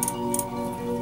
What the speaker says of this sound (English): Just clicking away when there's a bite.